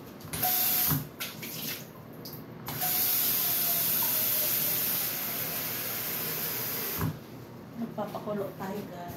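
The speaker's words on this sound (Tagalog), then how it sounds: "Ayan, salang ko na yung aking mainit na tubig." Hot water poured into a cooking pot on the stove, a steady hissing, splashing stream that runs for several seconds, close by, with short pauses and clatter around it.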